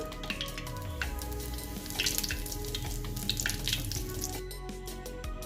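Curry leaves crackle and sizzle in hot oil in a heated pan with popped mustard seeds, a faint, continuous fizzing with scattered small pops, made while cooking lemon pickle.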